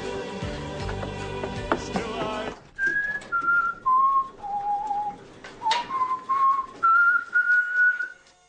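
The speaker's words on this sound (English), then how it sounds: "I heard someone whistling it." A person whistles a slow melody, a series of clear sustained notes stepping up and down, following a burst of loud music that cuts off abruptly.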